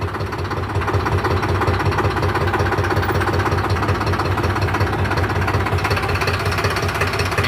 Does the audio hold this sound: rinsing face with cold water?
no